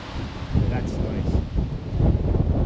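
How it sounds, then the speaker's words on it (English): Strong wind blows outdoors in a cemetery lined with trees, gusting and buffeting the microphone in uneven rumbling surges that rise and fall over a few seconds. "Getting lots of wind right now too."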